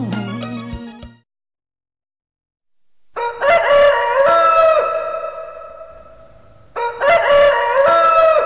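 Rooster crowing in a Thai music promo setting: a drawn-out cock-a-doodle-doo rings out loud and close, followed after a pause by a second crow starting near the end, with no talk over it.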